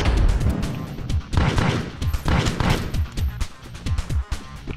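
Video game gunfire plays in a steady burst of loud, sharp shots spread through the whole stretch, with a dense mix of impacts and game effects behind them.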